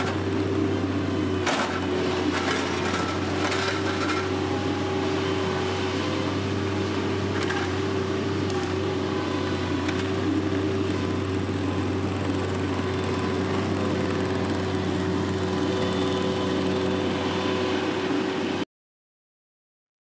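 A mini skid steer engine runs steadily at a constant drone near a job site clearing tree debris, with a few clanks early on before the steady engine noise continues until it abruptly cuts off.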